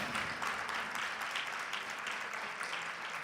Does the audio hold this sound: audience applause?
yes